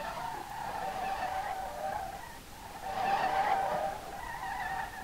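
A car drifts at full throttle in the racing game Street Legal Racing Redline, its engine droning under fairly quiet, continuous tire squeal that swells in two waves.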